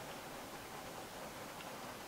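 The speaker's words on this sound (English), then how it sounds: "Good God, it's raining heavily." Heavy rain in the stealth game Dishonored, a faint, steady hiss of downpour with no breaks and no talk.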